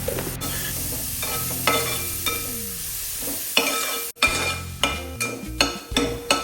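A chicken mixture for chicken kondattam is sautéed and stirred in a pan, with a continuous sizzle broken by repeated close scrapes and clinks of a spoon against the metal, getting busier and more rhythmic near the end.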